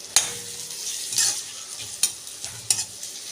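Onions and tomatoes sauté in an oiled pan, a hissing sizzle punctuated by four distinct scraping strokes of a spoon stirring, close and clear with no talk.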